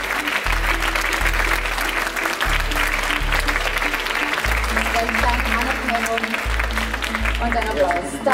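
Applause from the audience at the Ars Electronica 2021 u19 award ceremony, steady clapping running under a prominent rhythmic music beat.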